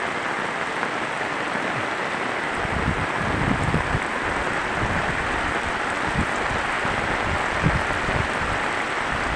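Heavy rain pours steadily in the mountains of the Bicol Region during a low-pressure area, a dense hiss with scattered louder splashes and drips throughout, no voices.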